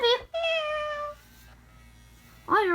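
A toy cat gives a bright electronic meow, then a second rising meow near the end, loud and close with a faint hum between the calls.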